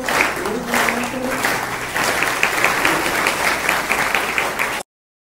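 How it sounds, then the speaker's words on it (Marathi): A college gathering audience breaks into sustained, dense applause during a poet's Marathi poem recital, clapping loudly and evenly for nearly five seconds before stopping abruptly. "तुम्ही टाळ्या वाजवायला सुरुवात केली"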